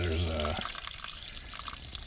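Water rushes and gushes steadily from a repaired irrigation line being flushed out after a leak fix, with a louder low burst at the start settling into a continuous splashing hiss close by.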